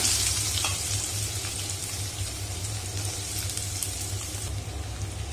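Shallots frying in hot oil with popped mustard seeds for an agathi greens stir fry, giving a steady soft sizzle with a low rumbling hum underneath, moderately quiet and without talk.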